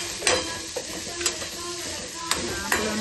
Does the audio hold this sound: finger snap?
no